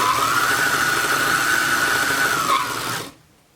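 An old pink and blue Brother sewing machine, a dual-stitch straight and zigzag model, runs with a steady whirring, humming drone, close and fairly loud, before stopping abruptly near the end.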